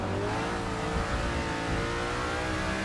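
NASCAR race car engines in Forza Motorsport 6 while overtaking a pack, a loud sustained roar of multiple engines revving together without pause.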